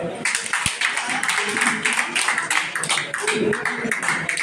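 A crowd at a 2024 Lok Sabha election street rally for a BJP candidate claps steadily in quick, uneven bursts while someone talks over the applause.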